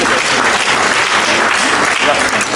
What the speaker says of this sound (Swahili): Naomba tukupigie tena makofi mengi sana.